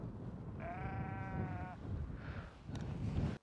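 Sheep bleating outdoors near a parked car, one loud wavering bleat followed by a rougher second call, both close and clear.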